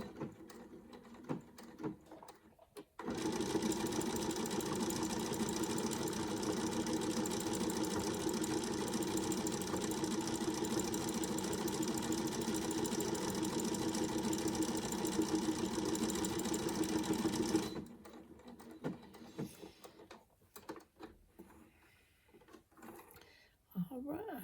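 A sewing machine stitches down the loose edge of trim made from fabric scraps, running as a steady, close, continuous whir for about fifteen seconds. Talking comes before and after the stitching.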